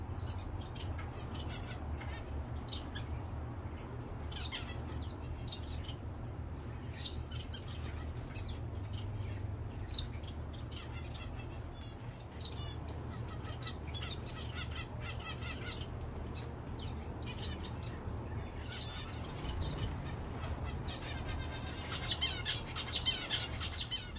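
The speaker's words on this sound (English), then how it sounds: "And I'll also leave some footage of just the birds." Gouldian finches in an aviary chirp and tweet continuously, a busy scatter of small high calls at moderate distance over a low steady background hum, with no voices.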